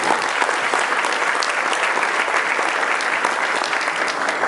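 A crowd applauds steadily, a dense, even wash of clapping that holds at full strength throughout.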